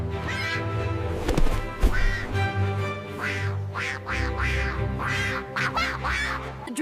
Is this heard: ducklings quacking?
yes